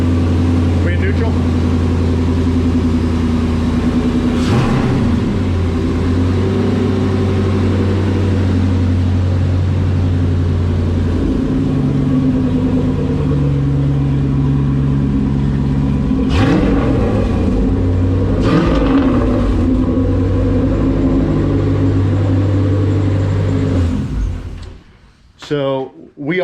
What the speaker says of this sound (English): This is a drivetrain straight out of a Camaro, basically, more or less. Okay, awesome. All right, so hey, let's fire it up and listen to it for a second.